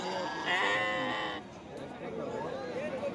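Goat kids bleating at a sheep market, a sustained bleat standing out briefly over a background of crowd chatter and nearby talking.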